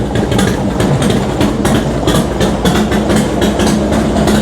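A Harley Davidson FXDX motorcycle engine fires up and runs with a loud, steady, rumbling idle and rhythmic exhaust pulses, close by.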